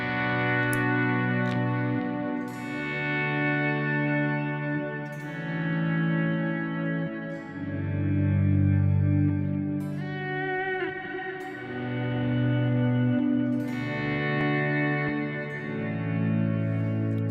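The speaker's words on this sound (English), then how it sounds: "So this has a auto volume echo, a delay, a shimmery type of reverb" A guitar swell patch with auto-volume echo, delay and shimmery reverb: sustained notes fade in slowly and bloom into long, layered, distorted washes that overlap continuously, with no talking.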